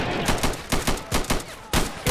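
Battle gunfire in a war video game near a barbed wire fence, a series of sharp, loud shots in short bursts about every half second, close and punchy with no talking.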